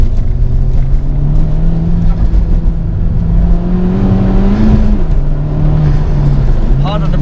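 A Honda Civic Type R FK2 turbo engine drones steadily and gradually rises in pitch while accelerating through a corner, with a brief dip near the end and a voice talking over it.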